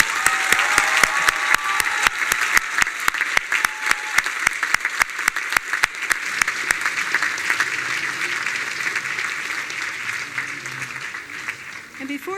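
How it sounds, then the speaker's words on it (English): Commencement crowd applauding the parents at an undergraduate graduation ceremony, with broad clapping from many hands and a few distinct sharp claps near the microphone, fading gradually with brief voices heard at moments. "let's thank them and give them a round of applause."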